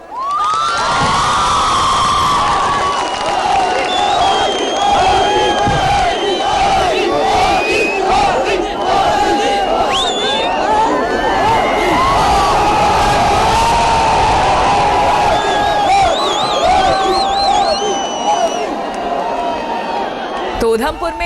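A huge crowd at Narendra Modi's election rally in Udhampur, Jammu and Kashmir, cheers and roars without pause, with shouting voices and chants rising over the continuous loud din.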